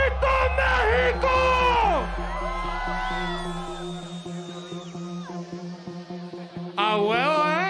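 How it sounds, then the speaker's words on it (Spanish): Festival crowd at an EDM set at EDC Mexico 2022, yelling and whooping loudly together with strained voices, a steady low bass hum running underneath and a fresh burst of shouting near the end. "Ese grito para su facha, un pinche grito, México."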